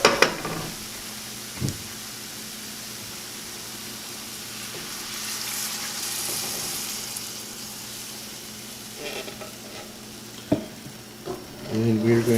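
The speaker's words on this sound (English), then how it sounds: "we're going to give that a quick stir, and we want to bring that up to a simmer" A spoon stirs milk into sausage gravy in a pan, a soft steady scraping and swishing over a faint background sizzle, with a few louder clinks and knocks near the end.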